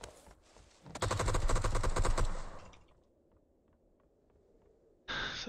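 Rapid automatic gunfire in the video game PUBG erupts in a dense, close burst lasting over a second, followed by scattered faint shots and a final loud burst at the end.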